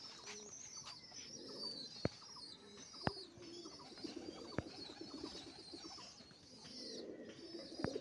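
Old pigeons in a loft cooing softly and repeatedly, low murmuring calls with sharp clicks and small bird chirps, faint and at some distance.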